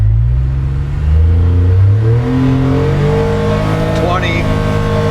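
Tuned Polaris 1500 side-by-side launching at full throttle, its engine loud and close as it revs up through rising pitch sweeps and shifts, with people talking over it.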